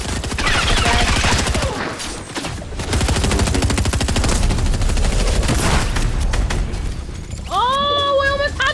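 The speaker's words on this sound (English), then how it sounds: "we're getting shot on" Rapid gunfire in the video game Fortnite, dense sustained bursts of shots filling most of the span, with players talking over it and an electronic chime near the end.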